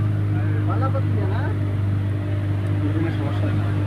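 A boat engine runs at low speed, giving a constant deep hum with a faint mechanical chatter on top. A voice speaks briefly over the motor.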